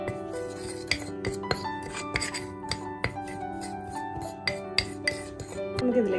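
Toothpaste, baking soda and crushed cloves are stirred together in a bowl, giving a series of quiet scraping clinks and taps of a spoon against the dish, irregular and close up, with no talking.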